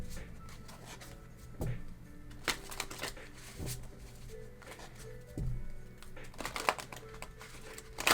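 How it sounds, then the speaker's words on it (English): Tarot cards drawn from a deck during a pick-a-pile reading, with soft crisp card slides and taps landing every second or so, close and quiet against a light background hum. "I'm going to pull a few cards from here."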